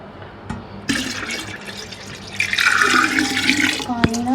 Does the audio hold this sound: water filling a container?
yes